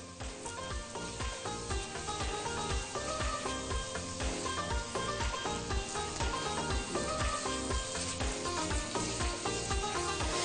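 Flour toasting in a pan while making kuymak gives off a steady close sizzle and faint scraping with no speech, continuing evenly throughout.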